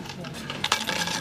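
Coins dropping into a collection tin in a pub, a short burst of metallic clinks and rattles, close and moderately loud.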